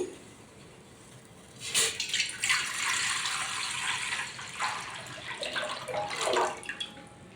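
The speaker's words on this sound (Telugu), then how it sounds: "పాయసం కోసం గిన్నె పెట్టుకుందామండి ఇప్పుడు అందులో లీటర్లు వాటర్ పోసుకుందామండి" Water pours steadily into a cooking pot set out for chana dal and jaggery payasam, a close, continuous splashing stream that starts abruptly and runs for about six seconds with no talk.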